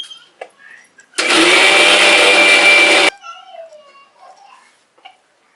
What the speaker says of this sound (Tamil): இப்போ இஞ்சி வெள்ளைப்பூடு அதில் போட்டு அரைக்கிறோம்.